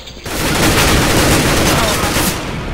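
Dense, loud gunfire in Counter-Strike: Global Offensive, a continuous barrage of shots that fills nearly three seconds with little pause and a sharp onset after a brief quiet start.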